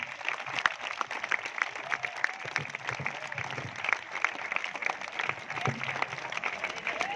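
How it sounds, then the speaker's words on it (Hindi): Applause from schoolchildren keeps going at an Independence Day celebration, an even, continuous patter of many hands heard from a distance, without a clear peak. "2000 तालियां बजती रहे।"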